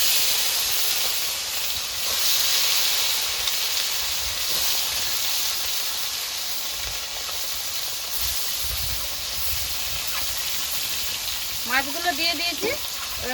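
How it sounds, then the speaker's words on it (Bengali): Rohu fish pieces coated in salt and turmeric go into hot oil in a wok, bringing a loud continuous hissing sizzle throughout, and a few clinks near the end. "এদিকে আমার কড়াইতে তেলটাও গরম হয়ে গেছে এবার মাছগুলো ভেজে নেবো"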